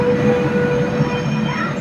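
A train on the Sabarmati–Bhavnagar Intercity Express rolls along, with a steady loud rumble, a sustained tonal hum and wheel noise filling the short stretch, heard from on board.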